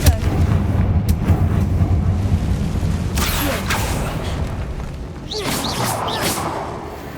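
A Confringo fire spell fired in the video game Hogwarts Legacy sounds as a loud blast with a heavy booming impact, followed by crackling whooshes and a second burst of bright, fiery hissing toward the end.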